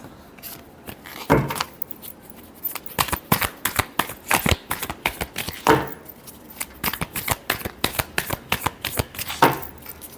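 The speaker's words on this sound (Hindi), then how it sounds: "Last shuffle." Tarot cards being shuffled by hand, close and crisp: rapid bursts of riffling flutter and slaps in uneven clusters, repeated over and over, with no talk.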